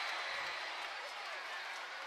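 Boxing arena crowd at a Jake Paul vs Deji fight, a steady dense roar of noise and scattered applause, loud and continuous throughout.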